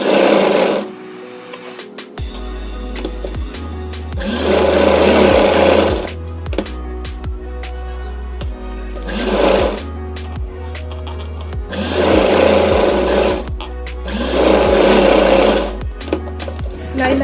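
A sewing machine stitches a fabric mask in several bursts, its fast mechanical whirring and clatter loud and close, broken by pauses and handling sounds, with a low hum underneath.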